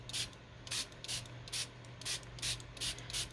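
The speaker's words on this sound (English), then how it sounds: "This is oxide spray" Short bursts of oxide ink spray hiss out in a steady rhythm onto a plate, about eight quick pumps close by, over a faint low hum.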